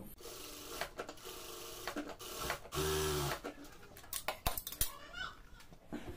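A sewing machine runs a short, loud double-stitch burst while sewing elastic into a salwar. The steady mechanical whir lasts under a second, with handling clatter and rustling before and after.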